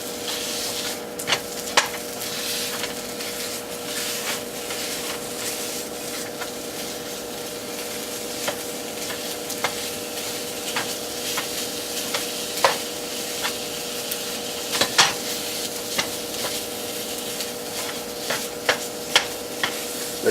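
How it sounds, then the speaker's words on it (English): Chorizo being broken up and fried in a pan for chicken tinga, a steady loud sizzle with frequent quick scrapes and taps of the utensil against the pan, up close and without speech. "get our chorizo in the pan. Start breaking that up."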